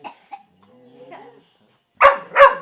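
A dog gives two sharp, loud barks close by in quick succession, following quieter whimpers and low vocal sounds.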